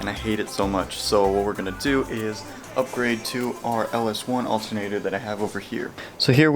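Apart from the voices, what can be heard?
None of the usual background noises is heard.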